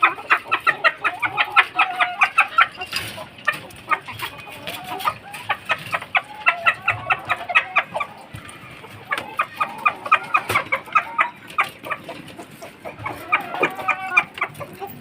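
Hens kept on a home balcony cluck steadily in rapid, repeated bursts, loud and close, with several birds overlapping and brief pauses between flurries.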